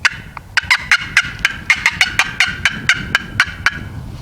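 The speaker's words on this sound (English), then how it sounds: "So that's the traditional Yelp, and that is the Cluck." A wooden turkey box call, struck by hand, plays a series of sharp yelps and clucks. About fifteen loud, evenly spaced raspy notes sound up close, with no voices.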